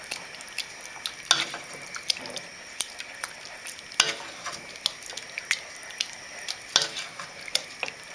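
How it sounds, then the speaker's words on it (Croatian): Chicken and couscous are stirred in a pan over a steady frying sizzle, with repeated spoon scrapes and clatter at an uneven rhythm, close and moderately loud, no voices. "Promiješamo."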